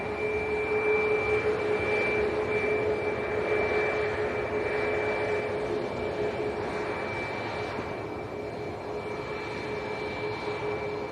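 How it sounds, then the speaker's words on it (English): A Maltese-registered Ryanair Boeing 737 Max jet at an airport, its engines producing a loud, steady roar with a sustained whine that holds evenly throughout. "this is a Ryanair Max, Maltese registered one."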